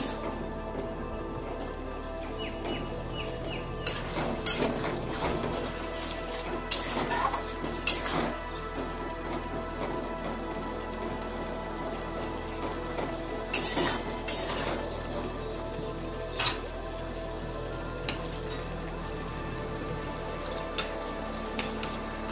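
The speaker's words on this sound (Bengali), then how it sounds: "মশলাটা কষিয়ে নিই" Spice paste with a splash of water being stirred and fried in a pan for a jackfruit chicken curry, a low steady sizzle with repeated spatula scrapes and knocks, some sharper clacks mid-way; no speech.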